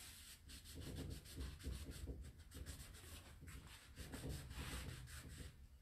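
Gilding wax is rubbed onto a painted wooden piece of a coffee bar, a soft, steady, faint scrubbing with rhythmic back-and-forth strokes that continues without pause.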